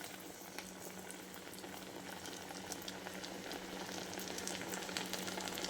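Alsanda vadas, black-eyed pea fritters, fry in hot oil with a continuous, even bubbling sizzle and fine crackles, steady and fairly quiet throughout.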